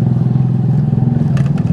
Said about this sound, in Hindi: बाइक लाउड होने की वजह से